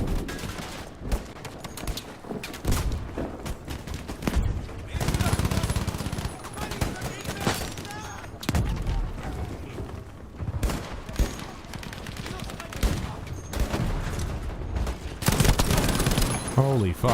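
Dense Battlefield V gunfire: rapid automatic bursts and volleys of shots, loud and sustained through most of the stretch, with players talking over the shooting.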